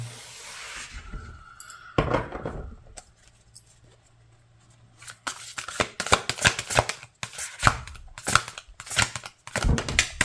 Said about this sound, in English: cards a bit difficult to shuffle